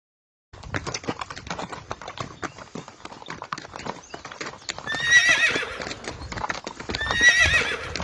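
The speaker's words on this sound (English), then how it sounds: "H for horse." A horse neighs twice while its hooves clip-clop steadily throughout, the whinnies rising loud and close over the rhythmic trotting.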